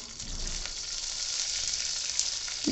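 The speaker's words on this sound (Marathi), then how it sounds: "तेल गरम झालं की आपला कढीपत्ता टाकायचा आहे फोडणीला" Hot oil sizzles and crackles steadily as curry leaves fry in a pan for tempering, a bright hissing sputter up close with no voices.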